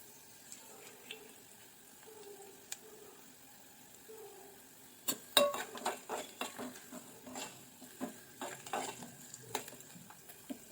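Onion pieces sautéing with curry leaves in a pan for capsicum curry, quiet at first, then a run of close spoon scrapes and soft sizzling in uneven strokes through the second half.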